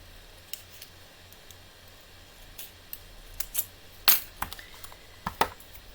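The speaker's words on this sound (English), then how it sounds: "I'm going to trim this down just a little bit." Scissors snip through card stock for a handmade typewriter-themed thank-you card, a few sharp isolated cuts with small taps and handling noises against a quiet room background, no talking.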